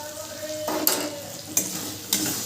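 Whole cumin, turmeric and salt sizzling softly in a pan while a spatula stirs and scrapes three times, each stroke a brief close scrape over the steady low frying hiss, with no speech.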